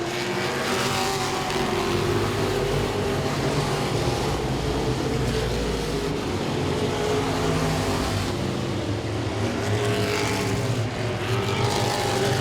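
Modified race cars roar around the oval at Langley Speedway, a steady, loud wall of engine noise from several cars close together, with rising and falling revs as they pass, continuous for the whole stretch without any voices.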